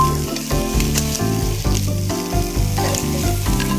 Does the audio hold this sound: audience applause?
no